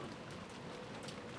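A rain sound effect in the Umineko visual novel: a steady, even hiss of falling rain with scattered droplet patter, heard alone without voices.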